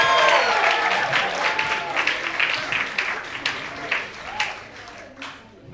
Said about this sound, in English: Ladies and gentlemen, put your hands together. Let's start clapping, brothers.